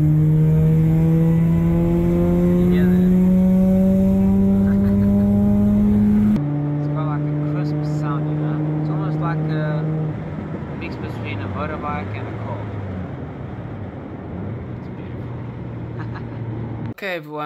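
Car heard from inside with the rear window open, its engine droning and rising in pitch under acceleration, then an abrupt cut to a quieter rumble with a voice talking over it.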